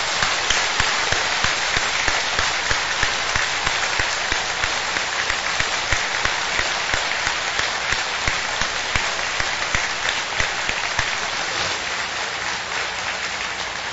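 A church gathering of pastors and congregation members breaks into loud, continuous applause, a dense crackle of many hands clapping evenly for about fourteen seconds with no voices on top.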